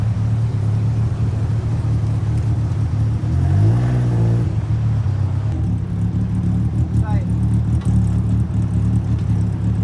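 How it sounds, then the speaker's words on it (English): A yellow Toyota AE86 coupe rolls into a car meet at Daikoku, its mid-pitched engine rumbling steadily and rising in a brief rev midway, over constant background engine noise. "Another nice A86 rolling in, all yellow this time."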